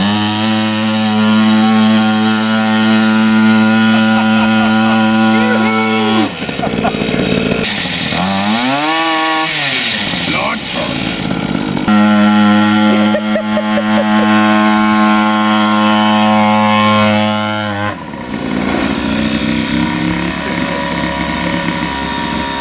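A little motorbike's 3.5 HP two-stroke engine running loud and close, a buzzing drone with strong harmonics that rises and falls with the throttle, dipping in pitch twice before revving back up, with no talk over it.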